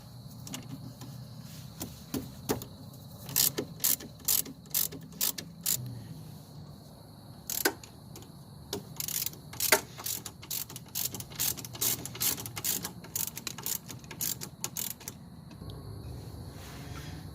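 A ratchet loosens the two Allen head bolts on the front brake caliper of a 1995-2005 Chevrolet Cavalier, giving bursts of close, sharp pawl clicks in quick repeated runs with short pauses between them.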